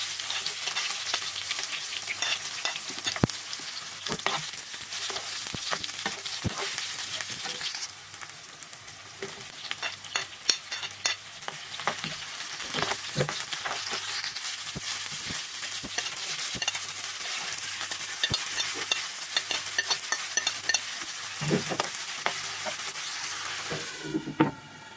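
Vegetables fry in hot oil in a pan, a dense continuous sizzle with frequent scraping stirs and clinks from a utensil throughout, close and steady with no talk.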